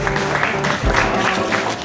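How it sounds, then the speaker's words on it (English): Short burst of applause from a group at a cooking challenge event with a basketball team, clapping moderately loud with a little crowd noise mixed in. "So give a round of applause for you guys."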